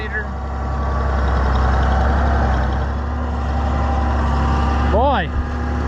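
A tractor engine rumbles continuously at close range while working in snow, a loud, steady low drone that holds throughout, with a brief faint rising whine near the end.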